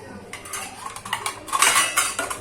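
Plates and cutlery handled while serving chapati and bhaji, close clinks and clatters of steel utensils and dishes in quick irregular bursts, growing busier toward the end, with no talking.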